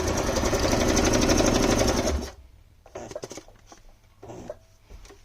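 A sewing machine stitches pockets onto a fabric journal cover, running loud and steady for about two seconds before stopping, followed by quiet handling sounds.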